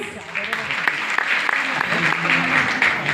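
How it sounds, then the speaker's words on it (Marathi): An audience claps continuously in a children's midbrain activation session, a steady, fairly loud patter of many hands with a voice talking over it. "मागच्या लोकांनी टाळ्या वाजवा प्लीज."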